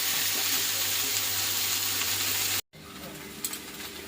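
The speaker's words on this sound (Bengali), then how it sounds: "কচুটা দিয়ে এখন একটু ভালো করে আবার কষাবো" Taro pieces being stir-fried in a pan, a steady close sizzle with scraping stirs, broken by a brief silent cut before a quieter stretch with a few clinks.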